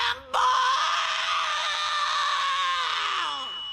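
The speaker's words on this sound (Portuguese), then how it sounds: "ela mandou um grito fingindo que tá com raiva" A cartoon girl gives a long, loud, sustained scream, faking anger, with a steady strained pitch that falls away at the end, heard alone without other voices.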